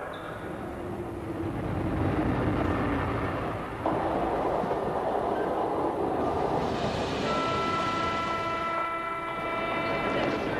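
A train passes through a station in Seine-Saint-Denis without stopping, with a loud continuous rumble and roar, then high steady metallic tones ring out near the end.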